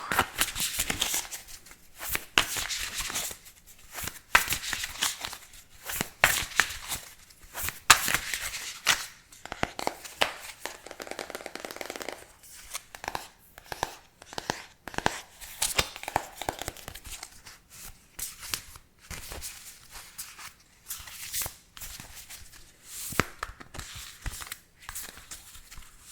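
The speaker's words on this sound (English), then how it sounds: "just the process of the shuffling of cards is very soothing" Tarot cards being shuffled close up in a quiet ASMR setting, a continuous soft flurry of riffling, slapping and papery crinkling with no talking.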